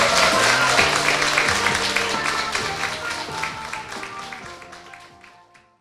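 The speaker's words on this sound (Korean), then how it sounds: "박수!" Studio audience at a Korean political talk show bursts into loud, dense applause that gradually fades away, with faint music underneath.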